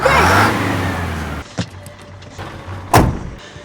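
A truck engine runs in a tense movie scene, a steady low idling rumble under a faint whine, broken by two loud sharp knocks.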